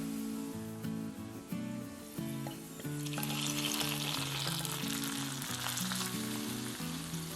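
A tempering of curry leaves hits a Kerala-style tomato curry with a sudden loud sizzle that swells into steady frying hiss, with some stirring scrapes and clatter underneath and no voices.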